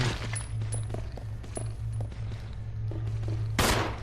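Repeated gunshots in the video game Resident Evil 0 Remaster, several quick shots over a steady background hum, ending with a louder burst.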